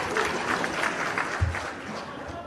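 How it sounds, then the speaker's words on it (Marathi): Applause from an audience at a women's gathering of a political party, a steady wash of many hands clapping at a distance, fairly faint and even throughout. "काका टाळ्या वाजवा"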